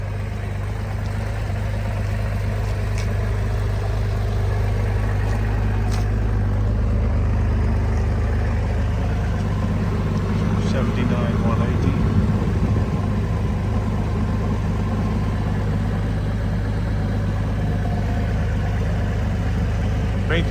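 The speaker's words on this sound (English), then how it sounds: "The engine is really quiet." A 1983 Honda CBX1000 Pro Link motorcycle engine idles steadily, a low, even rumble that stays constant and fairly quiet throughout with no speech.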